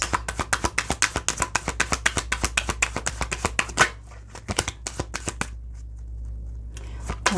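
Playing cards riffled and shuffled in rapid, closely spaced bursts for several seconds, then a pause and a few softer taps and a single card being drawn from a tarot-style reading deck, close and clear with no talking.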